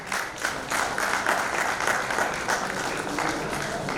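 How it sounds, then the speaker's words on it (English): A round of applause from an event audience greets a volunteering team called onto the stage at a testing conference, dense steady clapping filling the room at full volume throughout. "Big round of applause for them."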